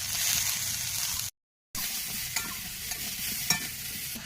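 Potatoes and vegetable stalks fry in oil in a wok with a steady, loud sizzle and stirring scrapes; the sound cuts out briefly partway through, then resumes with a few sharper clinks.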